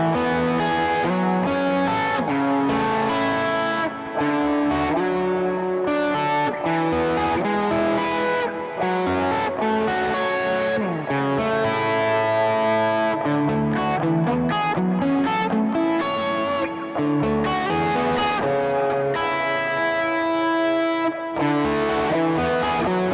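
Ambient worship electric guitar with a dirty, overdriven tone drenched in effects, ringing chords and layered notes sustaining continuously at full level with a dense, washy texture.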